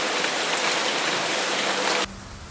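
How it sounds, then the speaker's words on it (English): Heavy rain falls in a dense, loud, continuous hiss that fills the whole stretch with no gaps. Its character changes abruptly near the end. "But it rained heavily."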